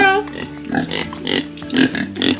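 Sick pigs on a homestead grunt and snort, with several loud, close bursts coming in an irregular rhythm.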